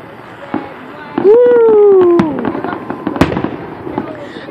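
Fourth of July fireworks in Chillicothe: a person lets out a long cheer, then several sharp explosions crack out, two standing out loudly, with scattered smaller pops and faint background voices.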